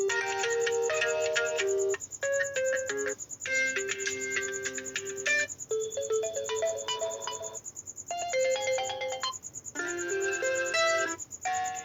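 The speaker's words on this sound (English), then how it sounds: "here you will see our old notification sound ringtone is fun" A Samsung Duos phone plays a bright, melodic notification ringtone, a string of chiming tones in short bursts separated by brief pauses, close and clear with no talking.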